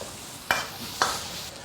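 Pork intestines and seasonings stir-fry in hot oil as a soft background sizzle, with two sharp scraping strokes of a spatula against the wok half a second apart, quiet and close.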